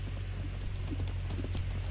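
A horse's hooves thud softly on the ground while it is worked on a lunge line during a running W demonstration. The irregular footfalls sit beneath a constant low engine hum.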